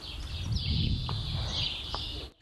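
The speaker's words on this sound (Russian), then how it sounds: "пение птиц в укрепрайоне «Зенит» иногда даже заглушает звуки стрельбы" Birdsong at a frontline fortified area in Donetsk region, thin high chirps and warbles sounding faintly over a low outdoor rumble.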